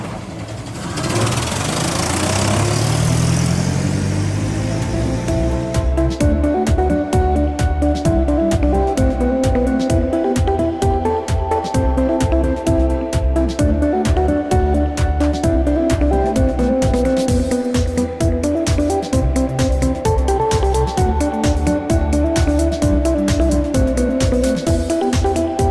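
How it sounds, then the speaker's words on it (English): A city bus engine runs steadily and loud, a deep rumbling idle with rhythmic pulsing knocks and vibration that continue without a break, no voices present. "City bus."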